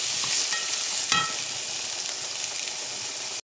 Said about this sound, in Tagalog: Halo lang tayo para nga maluto yung aking onion.